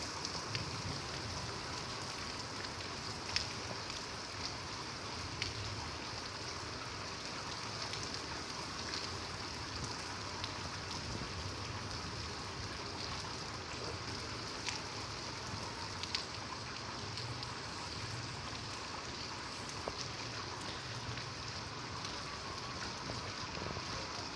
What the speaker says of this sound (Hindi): तो बारिश स्टिल जो है वो हो रही है